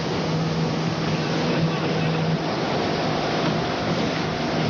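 A steady, droning motorboat engine runs close by without a break during an out-of-control boat rescue, a broad rumbling hum with a faint tonal whine.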